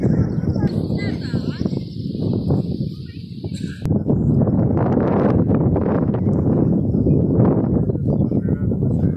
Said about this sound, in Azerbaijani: Biraz küləklidir, səsim zəif gələ bilər